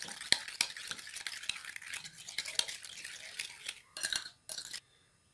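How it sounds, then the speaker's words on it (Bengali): Spoon stirring cumin, chili powder and chaat masala into yogurt for a fruit chaat, with quick scraping taps against a bowl repeating at a steady pace and a few louder clinks near the end, close and alone. "এবার এটা একটু মিশিয়ে নিচ্ছি ভালো করে"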